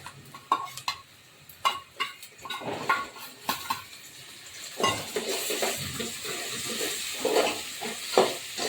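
Tomatoes tossed into browned onions frying in a pan bring a sizzling hiss, with repeated utensil clinks and scraping against the pan as the mixture is stirred, close and moderately loud.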